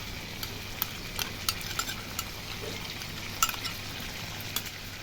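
Whisked sour yogurt stirred into chicken frying in its own released oil in a pan, a steady sizzle under a run of scraping spoon strokes, close and fairly even with a few sharper clinks.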